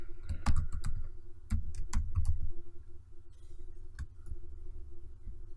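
Keys of a computer keyboard tapped in uneven bursts of sharp clicks, a quick cluster then scattered single strokes, over a faint steady hum in a quiet room.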